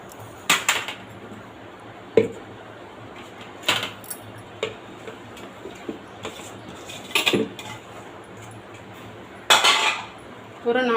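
Ingredients such as green chillies, ginger pieces, jaggery and tamarind dropped into a steel mixer jar for homemade pani puri, giving scattered sharp metallic clinks and thuds at irregular intervals over quiet room sound.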